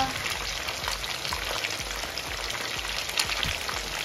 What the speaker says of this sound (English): It's frying really well.